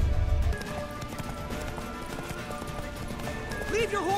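Galloping horse hooves in The Witcher 3 video game, a continuous fast rhythm running under shouted speech and game music for the whole stretch.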